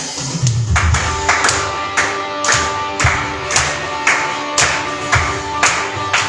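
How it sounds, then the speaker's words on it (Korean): A church congregation claps along in a steady rhythm during praise singing, the sharp hand-claps loud and close, roughly one per beat, blended with sustained musical tones and crowd voices. "함께 힘차게 박수 치면서 찬양하기 원합니다."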